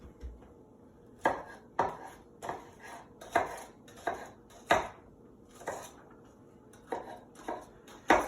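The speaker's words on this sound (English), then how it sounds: "we're going to turn that all on its side and dice it up just a little bit more" A knife dicing onion on a cutting board, a series of sharp, distinct chops at an uneven pace, close and clear with no talking.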